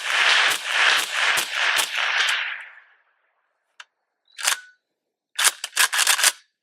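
An M+M M10X-P PRO 12.5-inch rifle fires with a suppressor fitted: a rapid string of sharp bursts, a pause, a couple of isolated clicks and clatters, then another quick burst of shots, close and loud.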